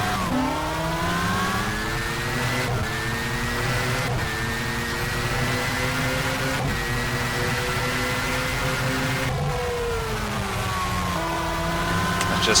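A race car engine drones continuously through a lap in the rFactor racing game, pitch climbing through the gears with several shift breaks and a dip and rise around a corner, loud and steady with no talk.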